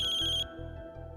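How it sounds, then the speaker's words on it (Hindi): A phone ringtone sounds for an incoming call, a bright electronic tone pulsing over a repeating rhythmic pattern, loud and clear with no talking. "ये दामिनी ताई का फोन आ रहा है।"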